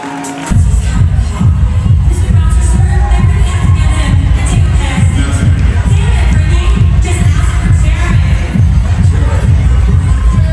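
Bodybuilding competition crowd in a venue applauding and cheering a winner, loud and continuous with heavy low rumble, stomping and shouting blending into a roar.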